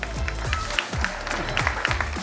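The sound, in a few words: audience applauding the team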